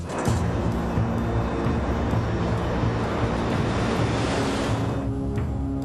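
An airliner on final approach to a small single runway shared by civilian and military flights, heard as a loud, steady broadband roar of engines and rushing air with a low droning hum that runs unbroken throughout.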